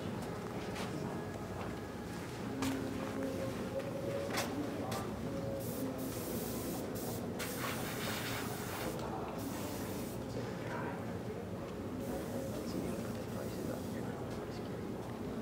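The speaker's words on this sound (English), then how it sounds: "this is a great way to start airbrushing" An airbrush sprays paint in a continuous soft hiss, steady and close, with small fluctuations in intensity throughout.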